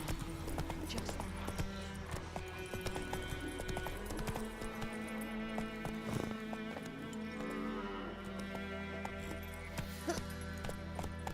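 Geralt's horse Roach trots in The Witcher 3, hooves clip-clopping steadily beneath a dense bed of game music and ambience, with occasional voices talking.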